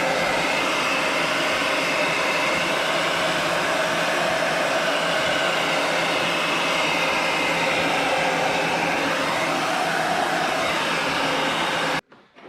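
A heat gun blowing on window tint film on a Chevrolet Silverado, a steady loud whooshing hum that stays constant for about twelve seconds and then cuts off abruptly, with no talking.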